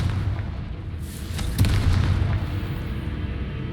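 Confringo explosive spell cast in Hogwarts Legacy: a deep booming blast lands midway through a steady low rumble, its crackling echo rolling on afterward.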